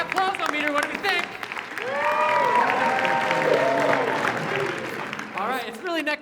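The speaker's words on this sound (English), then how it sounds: "By applause-o-meter, what do we think?" Audience applause at a teen awards show, with a sustained swell of clapping and cheering in the middle and a host speaking at the start and end.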